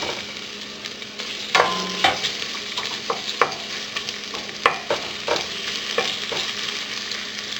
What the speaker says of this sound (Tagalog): Once na nilagay na natin yung garlic, ihahalo natin dito kaagad yung onion.